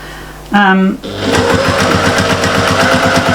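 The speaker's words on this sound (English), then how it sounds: "we're stitching that 1/4 inch all the way down. Use your walking foot." Sewing machine fitted with a walking foot stitching a quilted appliqué autumn table runner: a brief voice, then a fast, steady run of rhythmic mechanical stitching clicks, loud and close.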